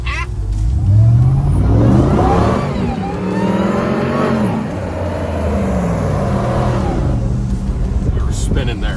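A Hellcat-powered Jeep Gladiator engine revs hard and accelerates, its loud roar rising and falling with shifting pitch while the tires spin, up close, with a voice talking over it.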